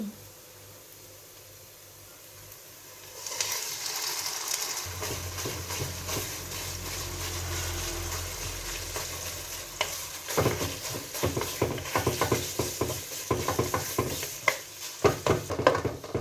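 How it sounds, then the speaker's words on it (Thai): Marinated minced pork hitting a hot pan and being stirred, a sudden burst of loud sizzling frying followed by rhythmic scraping and clattering of the utensil against the pan. "ก็ใส่หมูสับที่เราหมักไว้ได้เลย"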